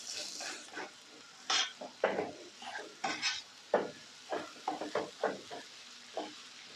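A spoon scrapes and tosses rice through egg fried rice in a pan, giving a series of short clattering scrapes in an irregular rhythm, close and fairly quiet, over a faint sizzle.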